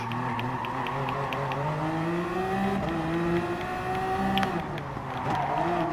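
Toyota TS050 Hybrid race car engine in Gran Turismo Sport, a steady loud whine with rising pitch sweeps, blended with other cars running close together in a race.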